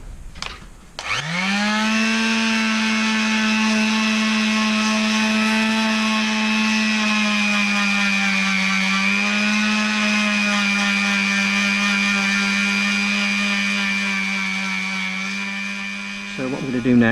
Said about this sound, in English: just sanding that down